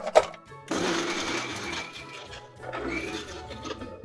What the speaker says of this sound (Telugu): చింతకాయలు మిర్చి జార్లో వేసేసుకొని కొద్ది కొద్దిగా మెత్తగా కాకుండా పలుకగా తీసుకోవాలి